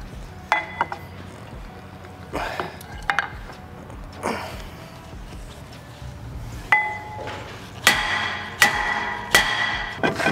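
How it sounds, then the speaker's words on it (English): A steel hammer strikes a Kia Stinger GT-Line brake rotor on the hub, sharp metallic clanks landing irregularly, spaced apart at first and then coming in a quicker run of heavy ringing blows near the end. "try it with this hammer"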